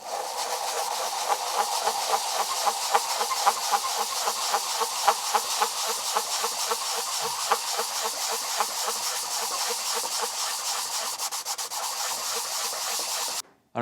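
A car body panel being sanded by hand with 400 grit sandpaper, making a close, steady rasping rub in quick repeated back-and-forth strokes that continue unbroken before stopping abruptly, with no talking.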